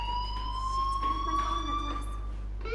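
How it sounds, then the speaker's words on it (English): A school fire alarm rings in the video game Life is Strange Remastered, a steady, high electronic tone that sounds continuously over a low background hum with no talking. "do you hear that fire alarm? That means you should be outside"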